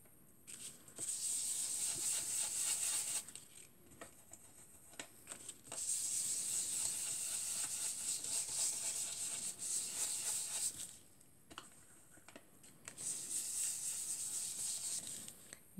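A stiff brush scrubs blue ink onto a card in bursts of dry, hissy rubbing separated by short pauses, close and soft, with no talking.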